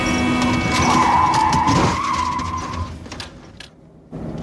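A car's tires screech and skid loudly under hard braking, the squeal rising and then fading into engine and road noise.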